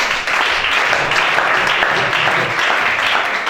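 A congregation applauds during a church worship service, a dense, continuous wash of many hands clapping together, loud and close, with no pause across the span.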